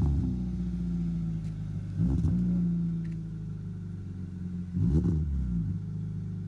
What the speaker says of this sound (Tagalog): Ito na daw yung muffler niya.